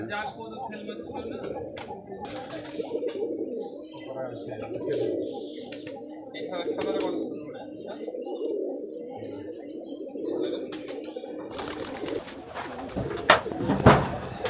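Pigeons at a pigeon farm in Rajshahi coo in repeated soft, throaty rolls with a few chirps and a flutter near the end, while people talk nearby.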